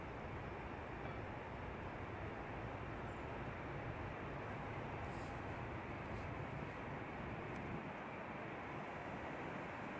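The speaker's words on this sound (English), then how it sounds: "And Embraer Phenom 300." An Embraer Phenom 300 business jet arrives at Edinburgh airport, its steady broadband engine roar spread evenly and unchanging over the whole stretch, with no voices over it.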